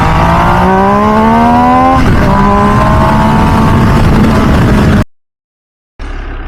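A 2023 MV Agusta Dragster 800RR motorcycle pulls away from a red light uphill in first gear, its engine note climbing loud and close under hard throttle, then cutting off abruptly before resuming.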